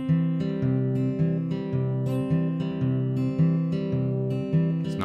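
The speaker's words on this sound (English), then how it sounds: "now I'm going to teach you a little bit of the old finger picking" Fingerpicked acoustic guitar with an alternating thumb bass steadily thumping under bright melody notes plucked between the beats, played alone and close, with no talking.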